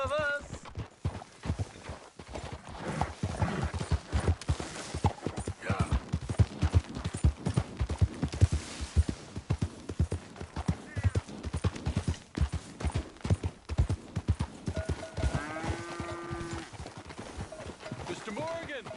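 Steady clip-clopping hooves of a horse at a trot in a video game, close and continuous, with talking over it and a brief whinny-like cry near the end.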